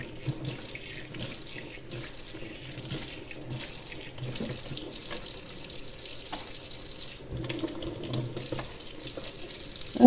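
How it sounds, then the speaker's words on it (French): Tap water runs steadily into a kitchen sink as it is rinsed, a continuous close splashing hiss that holds for the whole stretch with small shifts in the flow and no talking. "rincer mon évier"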